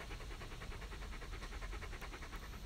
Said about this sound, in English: He's panting like crazy.